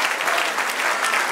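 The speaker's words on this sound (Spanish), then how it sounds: "dame un aplauso" A church congregation breaks into a short, dense round of clapping, an even burst of applause lasting just over a second.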